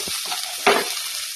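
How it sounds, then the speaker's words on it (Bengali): Cumin, coriander, turmeric, Kashmiri chilli and meat masala stir-fried in a hot pan, a steady sizzle with scraping stirs and one louder clatter midway, close and alone. "দিয়ে ভালো করে মশলাগুলোকে আমি ভাজা ভাজা করে নেবো।"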